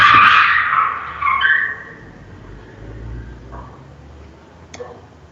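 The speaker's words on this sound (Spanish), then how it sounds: "no sé si has oído el coche" A car passes outside, its tire hiss and engine rising loud at first and then fading away into a low rumble, with a brief faint knock later.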